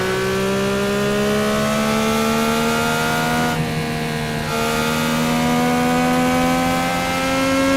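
Indy 500 race cars accelerating at the green flag start, a loud sustained engine roar with rising pitch across the field, continuous and close throughout.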